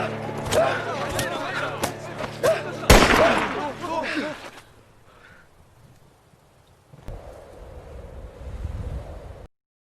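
Gunfire from a film battle in a forest between North Korean forces and soldiers, rapid shots and sharp bursts crackling for several seconds, then a quieter stretch with low rumble, with voices talking over parts of it.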